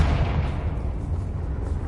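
Confringo fire-blast spell exploding in Hogwarts Legacy, a dense, loud rumbling blast that fills the whole moment and slowly thins out, heard alone without talk.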